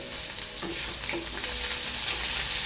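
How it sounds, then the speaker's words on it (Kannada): Chopped garlic sizzling in a hot pan with ivy gourd, a steady loud frying hiss with a few soft scrapes of stirring, no talking. "ಮೊದಲೇ ಕಟ್ ಮಾಡ್ಕೊಂಡಿರೋ ಬೆಳ್ಳುಳ್ಳಿನ ಹಾಕ್ತಾಯಿದ್ದೀನಿ ನಾನಿಲ್ಲಿ"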